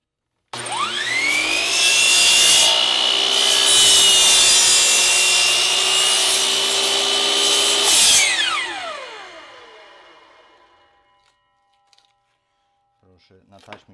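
A power saw cutting wood for a taped-down hinge template, a loud whining cut lasting several seconds, then the motor winding down to silence followed by a few faint clicks.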